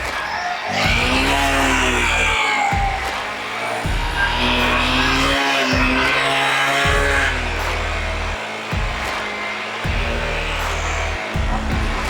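A motorbike engine strains and revs loud and close as the bike is ridden into deep mud during a village mud bike race, with the pitch rising and falling in repeated surges and brief drops between them.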